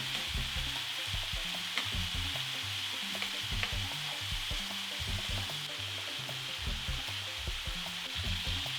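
Beef pieces sear steadily in a hot pan with mushrooms and onions nearby, a continuous close sizzle broken by clacks and scrapes as the meat is turned with a utensil, no voices.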